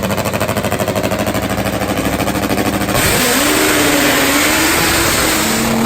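A Top Fuel nitro drag motorcycle engine fires up at a drag strip with a loud, rapid pulsing rumble that jumps into a harsher, higher roar about halfway through and holds steady, close and overwhelming.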